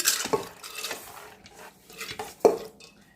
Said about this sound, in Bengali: প্রেসার কুকারের মধ্যে ডালটা ঢেলে দিচ্ছি